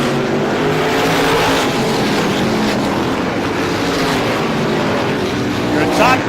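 Race cars roar around turn two at Star Speedway during the ISMA Classic 150, a loud continuous engine howl with passing cars and an announcer talking over it.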